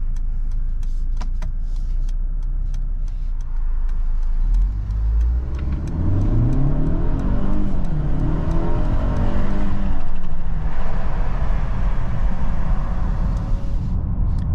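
A 2023 Mercedes-Benz GLE 350 4MATIC SUV with a 2.0-liter turbo four accelerates in comfort mode, its engine droning steadily and rising in pitch through the gears, loud and continuous from inside the cabin.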